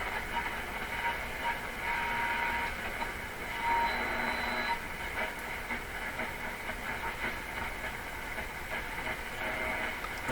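Steady broadband static hiss from a Nordmende Turandot tube radio tuned around 11 on the dial, continuous and fairly loud with faint whistling tones drifting through.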